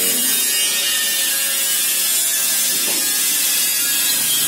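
A cup filler machine runs in a food packaging machinery showroom, giving off a loud, continuous mechanical clatter with a ratcheting, grinding texture and no pauses.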